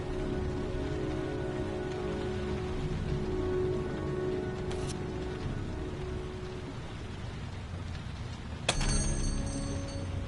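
Steady rain pours on surfaces in a dark, gritty city scene from the video game Heavy Rain, a dense continuous hiss with a faint mechanical click late in the clip.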